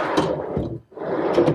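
Wooden drawer sliding twice on metal extension slides on a computer desk in a woodworking shop, two rumbling strokes separated by a brief pause, fairly close and clear with no talk.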